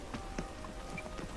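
Light rain, faint and close, with scattered individual drops ticking and pattering at an uneven pace over a soft steady hiss.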